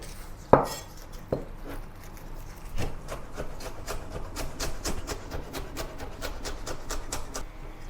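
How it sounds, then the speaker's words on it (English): Knife chopping spring onion into thin rings on a wooden board, a few sharp hits giving way to a steady run of quick, close, fairly faint taps. "Cut some spring onion into thin rings."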